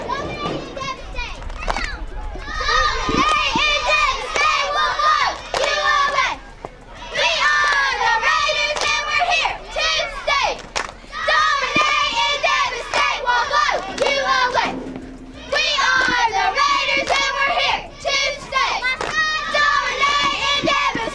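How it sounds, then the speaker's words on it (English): A crowd of children cheers for the Raiders, with loud bursts of shouting and yelling broken by short pauses, close and energetic. "You guys want to give them one quick cheer?"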